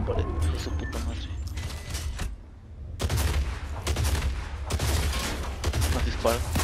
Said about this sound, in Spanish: Más disparo.